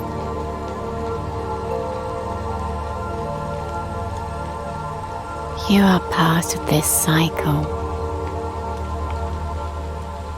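Steady rain falls throughout, an even hiss of drops, with a calm voice speaking over it partway through.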